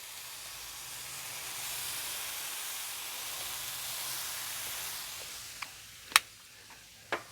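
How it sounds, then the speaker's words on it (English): A steady, broad hiss of a spoonful or two of water steaming on a hot griddle while cooking a salmon and shrimp stir-fry, with a few sharp clinks of a utensil near the end. "So this is 1 to 2 tablespoons of water just to give it some steam."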